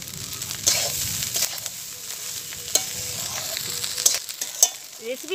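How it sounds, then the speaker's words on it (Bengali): Cooked rice stir-fried in a pan for egg bhuna rice, a soft steady sizzle with scraping strokes of a spatula at irregular intervals, close and moderately quiet, with no voices. "ভাতটাকে আমি 1-2 মিনিট ভেজে নেব"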